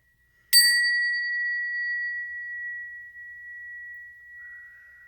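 A single bell is struck once, and its clear, high ringing tone hangs on steadily for several seconds with nothing else around it.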